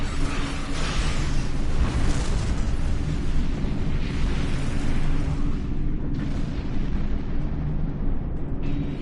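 Torpedo explosions in Star Trek Online during a ship battle, a steady, loud rumbling barrage of booming blasts that fills the whole stretch, with no talking over it.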